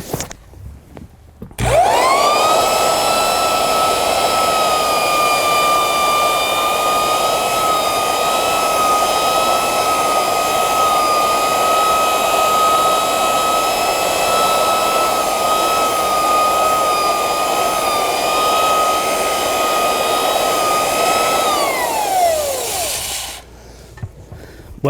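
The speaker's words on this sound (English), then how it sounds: "great dust pickup on this edger, good lighting system, dual speed, and belt driven" A dual-speed, belt-driven floor edger with dust pickup runs steadily for about twenty seconds, a loud whining motor hum with a high tonal whine, starting abruptly and winding down at the end.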